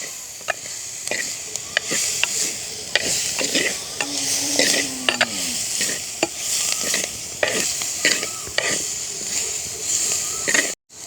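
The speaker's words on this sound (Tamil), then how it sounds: "இப்படியே நாங்கள் நல்லா இதாக பிரட்டி பிரட்டி விடணும்" Onions fry and sizzle in a clay pot for a village-style Sri Lankan fish curry, with a spoon scraping and stirring in repeated strokes over a steady hiss; a brief hum from a voice appears partway through.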